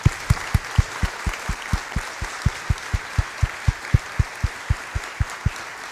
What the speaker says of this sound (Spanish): así que los despedimos con un gran aplauso